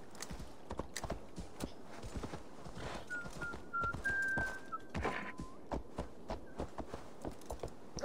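Horse hooves clip-clop in a steady walking rhythm in Assassin's Creed Valhalla, close and moderately loud, with brief whistle-like tones and game sounds layered over the footfalls.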